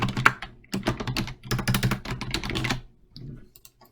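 Keys clatter on a computer keyboard as an answer is typed, in quick bursts of close, crisp clicks separated by short pauses, with a softer trailing flurry near the end.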